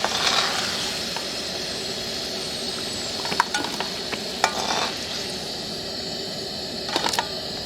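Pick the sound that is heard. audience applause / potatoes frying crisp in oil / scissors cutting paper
potatoes frying crisp in oil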